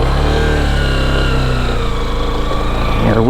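A Lifan KPR200 motorcycle's engine drones loud and steady while the bike is ridden, its pitch rising in a quick rev near the end, with no talk.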